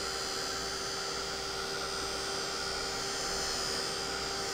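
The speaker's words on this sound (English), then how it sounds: "Now, we could probably go in with the heat gun and stop that from spreading out too far." Heat gun blowing over alcohol inks on glossy cardstock, a steady, even whooshing hum with a faint tonal whine that holds unchanged throughout.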